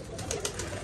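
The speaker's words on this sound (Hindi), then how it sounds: "वो देखें बहुत आला कबूतरी है यार" Rooftop pigeons coo in short soft pulses, moderately close, over a steady background hiss.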